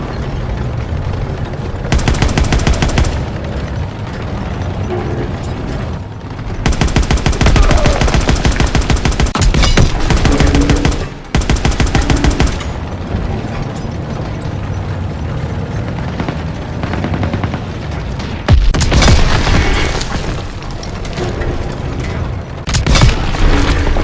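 Heavy WWII battle gunfire, with sustained machine-gun bursts and booming blasts loud and continuous throughout, broken by short gaps, with no clear speech.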